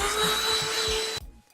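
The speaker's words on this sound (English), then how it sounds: "Vacuum time." A vacuum cleaner roars loudly and steadily with a high whine, then cuts off abruptly, leaving a brief fading rumble and quiet.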